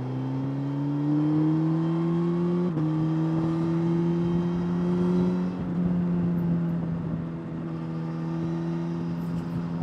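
A Suzuki GSX-S1000 GT motorcycle ridden in B mode, its engine giving a loud, steady droning hum that rises in pitch, dips briefly at a shift, then holds and eases off, with wind rush underneath.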